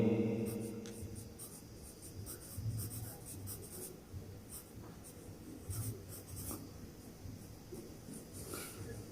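A pen writes a name on paper in short, faint scratching strokes up close, repeated irregularly through a quiet room with no talk over it.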